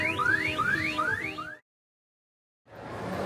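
A repeating electronic alarm at a shopping centre in Malaysia, with rising, sweeping tones, looping several times before cutting to silence, then background noise returns.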